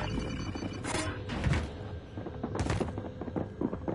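Rapid gunfire bursts in a multiplayer shooter video game (Jigsaw map, PS versus PC match), cracking in clustered volleys over a busy, noisy battle mix.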